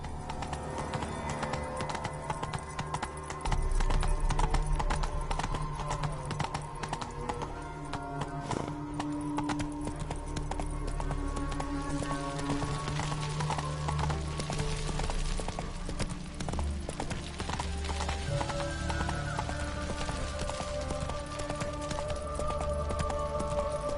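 Hooves of Roach, a horse in The Witcher 3 video game, clip-clop steadily at a gallop, loud and close, with occasional whinnies over a game soundtrack and ambient noise.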